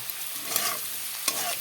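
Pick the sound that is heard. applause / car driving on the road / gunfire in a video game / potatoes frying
potatoes frying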